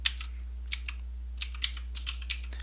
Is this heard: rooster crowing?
no